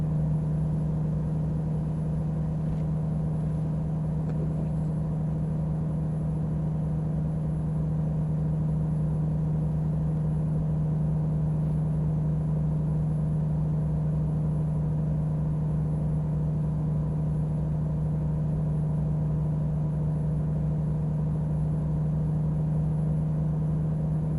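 Truck engine with a small motor and a badly geared transmission, struggling in American Truck Simulator: a steady, loud, droning hum with a low rumble, unbroken throughout.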